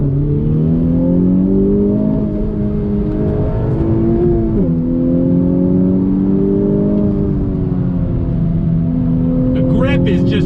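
A 2020 Honda Civic Type R, front-wheel drive, accelerates hard under throttle with a loud in-cabin engine drone whose pitch climbs, dips at a gear change, then climbs again, while a voice talks over it near the end.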